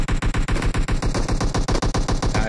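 Rapid automatic gunfire in the PUBG Mobile battle royale game on the Vikendi snow map, a loud, dense stream of shots with short gaps between bursts, close and continuous throughout.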